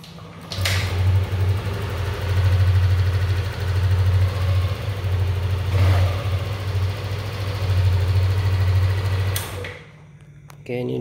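A motorcycle engine idles steadily after its ECU has been serviced for a code 12 crankshaft position sensor fault, giving a low, even thrum that drops away near the end, with a voice talking over it.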